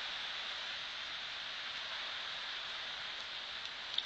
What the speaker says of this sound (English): it's having a bit of a rain, a real good rain